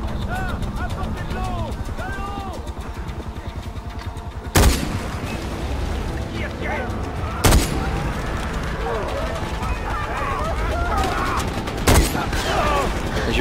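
Sniper rifle gunfire from the Far Cry 4 video game, with a few sharp loud shots spaced seconds apart over busy game ambience, birdsong and battle noise.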